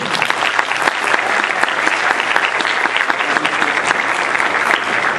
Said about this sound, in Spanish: Un fuerte aplauso para Maharaj